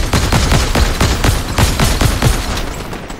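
Rapid gunfire in Fortnite, a dense string of loud, close shots cracking in a steady, regular rhythm of roughly three or four per second for the whole stretch.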